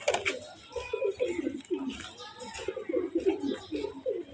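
Budapest racing pigeons coo in repeated soft, throaty bursts close by, overlapping one another without pause.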